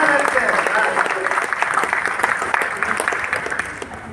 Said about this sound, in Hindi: थोड़ी तालियां बजा दीजिए